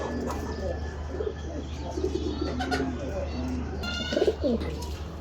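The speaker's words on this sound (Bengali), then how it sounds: "নটটার ডাকাটা কি করছে মাসাল্লাহ ভালোই অ্যাক্টিভ কবুতরগুলো" Frillback pigeons in a loft cooing repeatedly, soft rolling coos in several bursts with a chirp near the end, over a steady low hum; no speech.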